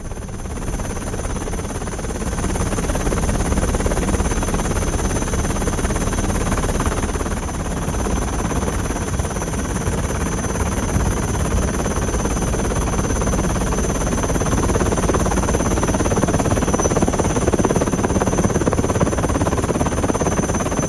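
A helicopter dropping food to people stranded by flooding in Chennai produces a continuous, loud rotor and engine drone that holds steady throughout, with no voices.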